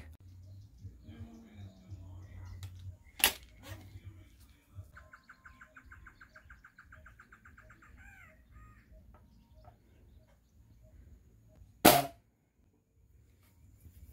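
Two sharp, loud shots from an AG11 4.5 mm air rifle ring out about nine seconds apart, each a crisp isolated crack over a low, steady outdoor background with faint chirpy tones.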